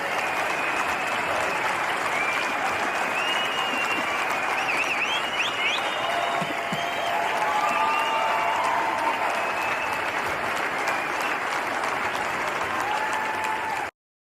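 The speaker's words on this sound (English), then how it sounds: "They were standing up and clapping, not booing" A UCP annual general meeting audience stands and claps, a dense, steady roar of applause from a large crowd that stays loud and even for about fourteen seconds with no talking over it.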